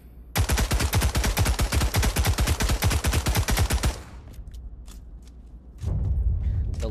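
Rapid MP40 submachine gun fire in the VR shooter Pavlov: a long, loud, evenly spaced burst of shots that stops abruptly, followed by quieter mechanical handling noises and a low rumble.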